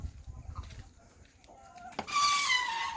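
Pet chickens, newly hatched Brahma among them, give soft scattered clucks close by in a quiet yard, then a louder, brighter burst of calling sets in near the end.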